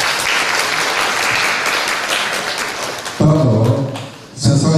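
Sustained applause from a church congregation at a Sunday service fills the room for several seconds, a dense crowd of clapping that drops off abruptly, followed briefly by a voice speaking.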